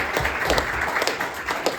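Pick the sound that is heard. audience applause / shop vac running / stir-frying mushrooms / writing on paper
audience applause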